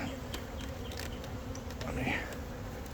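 Carniolan honeybees buzz around an open hive during an inspection, a dense steady hum with individual bees droning past close by, faint handling noises underneath.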